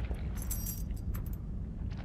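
Keys get picked up in the horror video game The Evil Within, giving several bright metallic jingles in short clusters over a steady low background rumble, with no talking.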